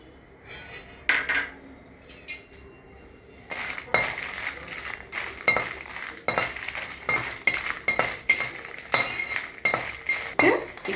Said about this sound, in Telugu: ఫస్ట్ కొంచెం అంతనే ఆయిల్ వేసుకొని రెడ్ మిర్చిను కొబ్బరి వేయించుకోవాలండి.